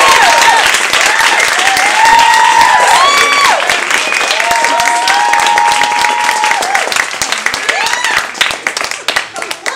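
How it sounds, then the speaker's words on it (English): An audience at a book reading in a bookstore applauds, dense clapping that swells and continues, with some whistles and voices mixed in, thinning toward the end. "Please, big, big, big round of applause for Lilibet Snellings."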